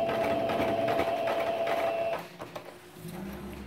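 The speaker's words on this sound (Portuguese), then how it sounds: "agora fiz a costura definitiva" A sewing machine runs steadily for about two seconds, stitching the final seam of a double fabric pencil case padded with R2 fleece, then stops, leaving quieter handling noises.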